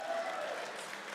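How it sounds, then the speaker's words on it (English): Audience applause at a livestreamed gathering, a brief burst of clapping from a crowd of moderate size, filling the moment alone. "so little round of applause for breakfast"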